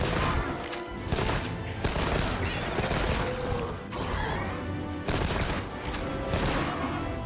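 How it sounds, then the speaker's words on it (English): A light bowgun firing in Monster Hunter Wilds, rapid mechanical shots with clacking, ratcheting reload sounds, dense and loud over continuous game ambience. "So, anyway, light bowgun."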